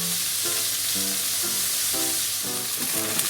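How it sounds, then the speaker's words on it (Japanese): Green onions and shishito peppers searing in a pan for a pork stir-fry, a loud, constant close sizzle with faint intermittent tonal hum underneath and no voices. "でししとうにもいい感じの焼き色をつけていきます。"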